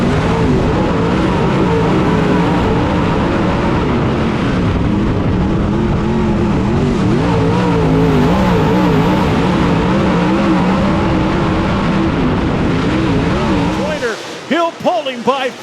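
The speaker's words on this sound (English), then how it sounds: "what a race car Joseph Joyner has brought to Senoia here tonight" A race car howls around the oval at Senoia, its engine revving and pulling hard through the turns in a loud, continuous roar, joined by other cars, with an announcer's voice over it near the end.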